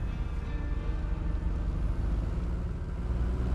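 A car engine in the video game State of Decay drones at a low, steady pitch, humming continuously without much change in revving.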